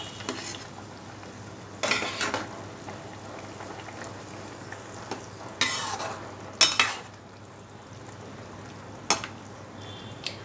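Fish pieces go into boiling potato curry gravy, giving a few sharp splashing sizzles against a quiet, steady bubbling simmer, with no talk.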